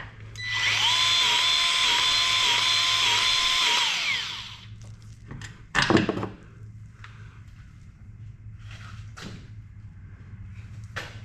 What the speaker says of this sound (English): give her a couple squirts of grease here